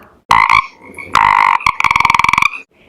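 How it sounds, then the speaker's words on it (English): A frog croaks loudly and close, a few single calls followed by a fast rattling series of rapid croaks. "a green frog"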